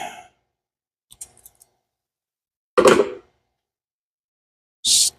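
Wire insulation being stripped while upgrading the ignition on a big-block Foxbody Mustang, heard as a few small clicks and snips followed by two sharp, brief strips close by in otherwise quiet surroundings.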